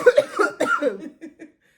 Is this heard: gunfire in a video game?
no